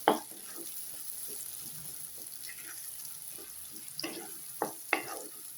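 Mango ginger being sautéed with jaggery in a pan gives a soft continuous sizzle, broken by a few sharp scraping stir strokes near the start and again toward the end.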